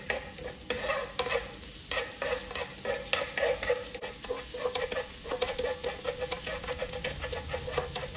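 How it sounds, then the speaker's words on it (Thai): Chili and garlic stir-frying in hot oil, a crackling sizzle broken by repeated spatula stirs and clinks against the pan, steady and fairly close, with no speech. "ผัดพริกกับกระเทียมกับน้ำมันให้หอมเลยนะ"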